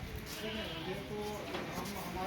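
Goats bleating at a goat farm in Dera Ghazi Khan, short nasal bleats close by, with someone talking over them throughout.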